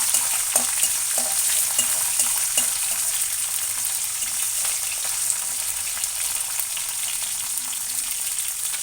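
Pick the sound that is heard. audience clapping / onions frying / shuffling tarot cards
onions frying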